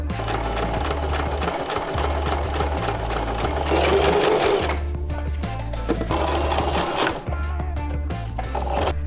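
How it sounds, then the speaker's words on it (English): Sewing machine running steadily as it stitches the long sides of a folded fabric piece, with a loud, continuous mechanical hum and a few brief pauses and restarts between runs. "we need to fold it in half and sew together longer sides of it"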